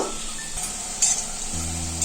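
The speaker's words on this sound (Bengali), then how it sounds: "এই মুইঠাগুলো একটু লাল লাল করে ভেজে নেব।" Soybean and green banana dumplings fry in a pan, sending up a steady crackling sizzle close by, with brief utensil clinks and stirring scrapes and no voices.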